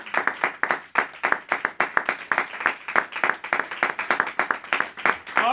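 Church congregation clapping and cheering in acclamation of Jesus Christ, dense irregular applause with scattered voices throughout, steady and moderately loud.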